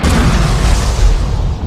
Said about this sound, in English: Back on the Ark, Eggman gives a demonstration of the Eclipse Cannon's power, broadcast across the world by blowing up half the moon.